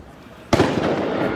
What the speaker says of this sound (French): Les pétards.